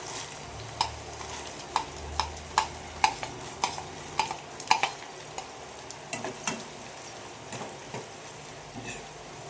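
Roasted gram stirred through hot oil in a pan for a spicy puffed-rice snack, a soft sizzle under repeated sharp scraping and clinking of the spatula against the pan, close and rhythmic.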